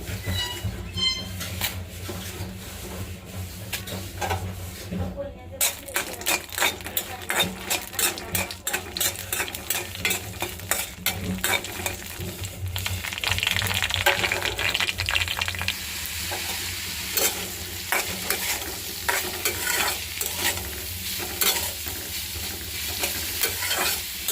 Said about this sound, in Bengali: দেখেন গাইস, মরিচগুলো ভেজে নিতেছি।